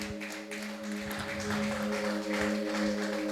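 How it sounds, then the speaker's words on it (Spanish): A church congregation applauds in a steady, dense patter of many hands, heard at moderate distance over a sustained organ-like hum that runs through the whole stretch. "Dele ofrendas de aplauso al que vive y reina por nuestras vidas"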